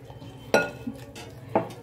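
A spoon stirring milk into bel sharbat in a glass, giving two sharp clinks against the glass about a second apart, with soft swishing between them, up close.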